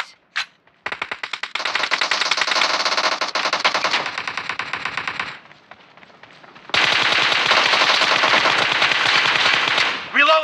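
Automatic gunfire in the PUBG Mobile shooter, loud rapid bursts of shots in long runs broken by a short pause and a quieter stretch, then another sustained burst before it cuts off.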